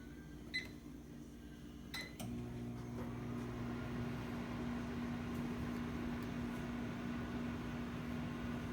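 A microwave oven heats bush beans: a couple of sharp beeps and clicks, then a steady low hum starts and drones on evenly, close and moderately quiet.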